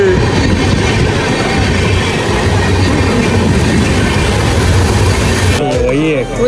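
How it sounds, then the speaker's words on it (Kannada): A train rolls past on the railway track at Dudhsagar during a monsoon trek, a loud, steady rumble close by with a continuous rail drone that cuts off near the end. "ಇಲ್ಲಿ ಟ್ರೈನ್ ಬರ್ತಾ ಇದೆ"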